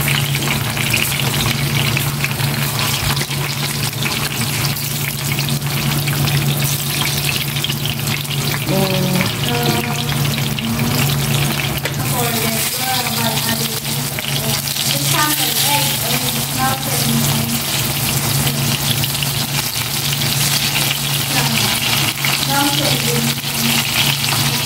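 Tilapia frying in reused cooking oil, a loud, steady sizzle and crackle that holds throughout, close up, with brief voices in the background.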